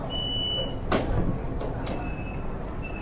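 Metro train in Xi'an, a steady rumbling ride with a brief hiss and clunk partway through and a faint electronic tone in the background.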